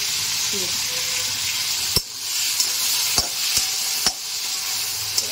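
Continuous sizzling of potatoes frying in a pan, with a few sharp clinks of a spatula stirring against the metal.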